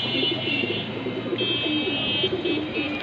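Racing pigeons coo in a steady low murmur with faint chirps, close by, amid continuous background noise and a faint voice.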